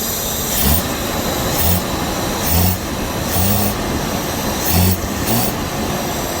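The engine of a 1976 Jaguar XJ6 Series 2 runs steadily on its own fuel tank after a restoration, a rough, droning idle with rhythmic pulsing surges roughly once a second, close and fairly loud.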